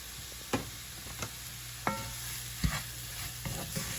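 Tony's Creole seasoning stirred into crawfish étouffée in a pot, a few sharp spoon scrapes and clicks spaced over a low, faint background sizzle, with no talking.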